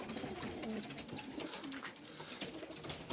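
Racing pigeons return to their loft after a 195 km race, soft repeated cooing and fluttering close by over a steady outdoor background.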